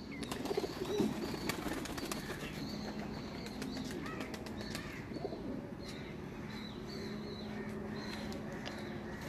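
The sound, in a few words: red-eyed pigeon cooing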